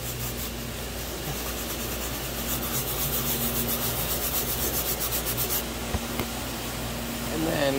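A brush scrubs a surface with cleaning solution in a continuous rough rubbing, fairly close and steady for most of the clip, with a brief knock near the end.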